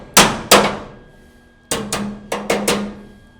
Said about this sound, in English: Give me that body hammer.